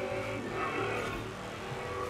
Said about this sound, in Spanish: el motorcito de la de adelante suena muy, muy latoso